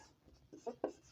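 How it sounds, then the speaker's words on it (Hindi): Pen writing on paper or a board, a few short scratchy strokes, soft and close, with no talk. "दैट्स व्हाई मैं आगे वाला क्वेश्चन लिखता हूं"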